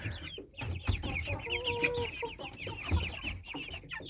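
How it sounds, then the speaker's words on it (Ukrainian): Silkie roosters fight, clucking and squawking in agitated bursts, with flapping and scuffling noises close by and no talking. "напевно, півники. Курочки так не б'ються."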